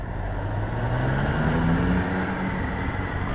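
A McLaren car drives past on the road, its engine droning loudly with a tone that climbs and then eases as it goes by, heard alone over steady road rumble.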